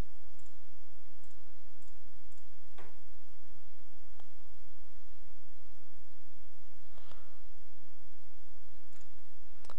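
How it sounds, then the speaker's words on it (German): Computer mouse clicks while stepping through a software installation, a few sparse, sharp clicks spaced seconds apart over a steady background hiss, with no talking. "Nun muss ich nur die Installation durchklicken."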